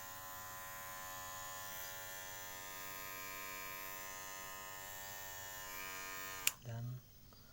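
A Kemei KM-2600 electric hair clipper runs with a steady, close buzzing hum for about six seconds, then switches off with a click, followed by a brief low thump.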